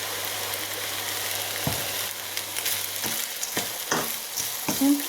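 Risotto rice and mushrooms fry in olive oil with a steady close sizzle, broken by several sharp scrapes and knocks of stirring.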